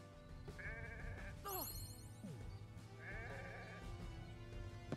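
Sheep bleat in the Renowned Explorers video game, a few wavering cries spread across the moment over steady game music and background effects.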